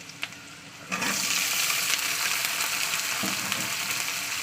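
A sudden loud sizzle erupts as yardlong beans hit hot oil with fried onions, then a steady frying hiss continues with a faint clink partway through.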